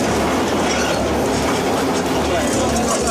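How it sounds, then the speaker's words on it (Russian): A mine cart rolls along rails with a dense, steady metallic rumble and rapid clickety-clack of wheels, loud and close, with faint squealing mixed into the continuous roar. "Вагонетка, а потім кліта, шахтарський ліфт піднімає їх на поверхню."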